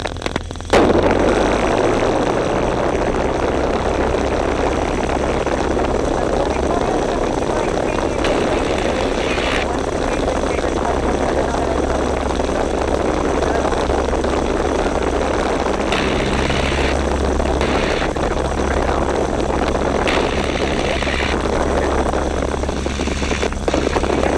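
De Havilland Tiger Moth biplane engine idling and taxiing at Duxford airfield, a steady, loud, droning rumble that continues unbroken throughout, with radio chatter and voices talking over it.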